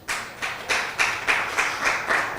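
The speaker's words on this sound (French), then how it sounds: "on applaudit pour Léa quand même, non?" A small audience claps for Léa in a steady, evenly spaced rhythm, about eight distinct beats over two seconds, fairly close and with no talking.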